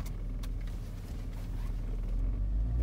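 A car engine idling and then rising in a low rumble as it is shifted into first gear, close and steady with no talking.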